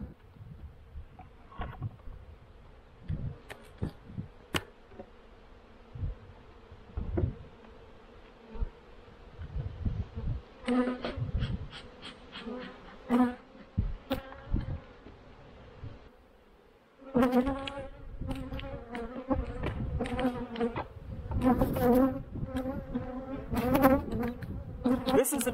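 Honey bees buzz steadily around a hive during a nectar flow, a dense, continuous drone at close range that swells louder partway through, with individual bees passing near.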